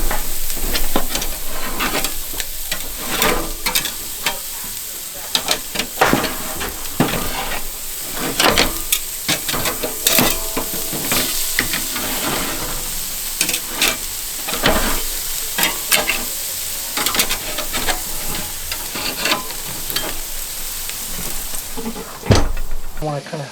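Chicken grilling on a PK grill: a constant sizzle with scattered scraping and clattering, while people talk nearby.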